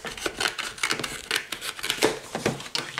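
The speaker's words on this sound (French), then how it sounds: "on va y aller avec les ciseaux" Scissors snip and slice through tape on a package during an unboxing, a quick run of crisp, close cuts and rustles with no talking.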